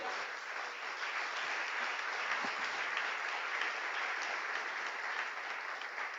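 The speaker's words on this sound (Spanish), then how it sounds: "palmas para el maestro" Sustained applause from a congregation for the preacher at an evangelical Pentecostal church service, a dense, steady wash of many hands clapping throughout with no voices on top.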